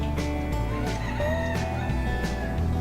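Chickens at a ranch crowing and clucking loudly up close, with a few sharp calls rising over a constant busy hum of fowl noise.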